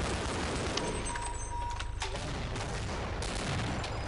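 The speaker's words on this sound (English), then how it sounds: "that is a tank, and it is shooting at you" Heavy gunfire from a tank in the video game Half-Life, loud dense bursts of shots and blasts that rattle on through the whole stretch with no voices over them.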